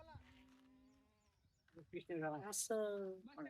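Red Kathewadi goats bleat at a busy goat market, with a few wavering cries up close, first drawn-out, then louder, overlapping calls toward the end.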